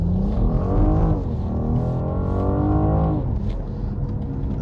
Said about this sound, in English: And the gear shifts are really crisp and really abrupt, very purposeful.